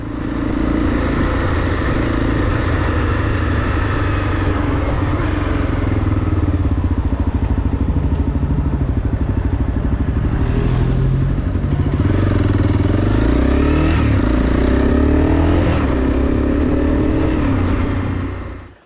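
Honda CRF250 dirt bike rides back in after green-lane trail riding in the Surrey Hills, its single-cylinder engine droning loud and close with repeated revving rises and throttle changes before cutting off abruptly.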